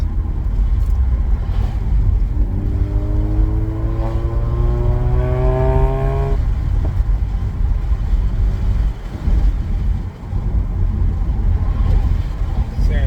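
Mazda RX8 rotary engine pulling as the car accelerates, a rising whine over a few seconds that cuts off, then a steady droning cabin rumble with wind noise and some talking.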